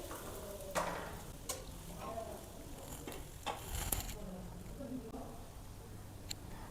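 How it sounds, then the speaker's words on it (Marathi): Gulgule fritters fry in oil over medium heat with a soft, steady sizzle and occasional crackling pops, fairly faint beneath a person talking. "मध्यम आचेवर आपल्याला छान हे गुलगुले 2 ते 3 मिनिटे तळून घ्यायचे आहेत"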